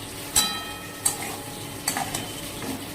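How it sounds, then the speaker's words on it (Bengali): Fish being sautéed with spices in a pan: a low steady frying sizzle with a few sharp stirring scrapes and clinks spaced through, close and fairly quiet, no talk. "এটা দিয়ে ভালো করে একটু কষিয়ে নিয়ে জল দিয়ে দেবো।"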